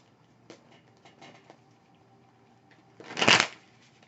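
A Tarot of Dreams card deck is handled and shuffled, with a few soft riffles and taps followed by a louder, fuller burst of cards being shuffled near the end.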